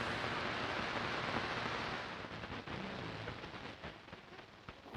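Steady rain with thunderstorm ambience, used as a sound effect in a Fallout: Equestria audiobook, a dense hiss of downpour that holds loud and even, then eases slightly with scattered drop patters and low rumbling.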